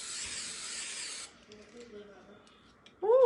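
A can of spray adhesive hisses in a steady, fairly close burst for about a second, then sputters into faint irregular spits as the nozzle clogs, followed by a brief voice.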